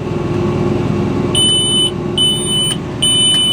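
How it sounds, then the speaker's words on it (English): A high electronic alarm beeps three times inside a tractor cab during a long night of planting, sharp short tones over the steady low rumble of the engine. "That beeping noise haunts my dreams"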